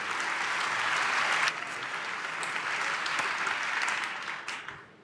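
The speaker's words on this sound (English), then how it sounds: "I think I can invite you all for a large applause for these two." Crowd applause at the re:publica 2022 conference, a thick continuous roar of clapping from a large audience that holds steady for several seconds before tapering off at the end.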